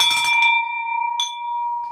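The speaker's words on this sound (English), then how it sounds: "This is why we don't have a bell at our office." A metal bell rings in an office, struck twice: a loud clang that rings out with a long, clear sustained tone, then a second strike about a second later that also lingers.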